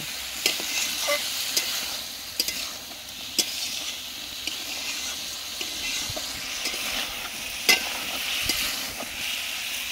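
Meat curry with a little water added sizzles steadily in a pan while a spoon stirs it, giving occasional sharp scrapes and clicks over a constant hissing fry.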